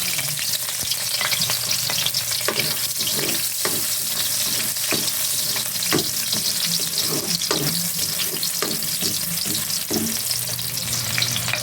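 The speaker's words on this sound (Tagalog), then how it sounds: "Magigisa na tayo ng spicy sibuyas." Spicy onions sauté in a pan with steady frying sizzle, and a spatula scrapes and stirs in irregular clacks over the hiss, close and continuous, with no talk.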